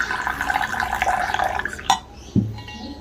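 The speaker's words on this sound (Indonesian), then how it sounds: "Berikutnya kita akan tuang." Water is poured for Ethiopian Refisa coffee in a steady, close trickle, ending with a soft clink and a short dripping tail.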